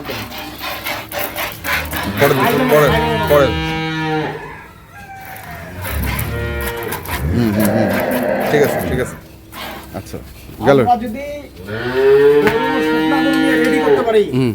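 A dairy cow on a farm lets out long, harmonic moos in several drawn-out bouts, close and loud, with someone talking in between and over them.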